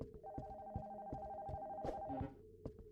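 An old telephone rings with a repeating electronic trill in a quiet abandoned house, heard faintly from across a room and ending in a couple of short knocks.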